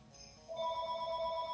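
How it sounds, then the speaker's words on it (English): Phone ringtone from a Phoenix Wright video game chimes in steady electronic tones, softer at first and then rising to a clear, sustained ring. "Let's let the phone ring."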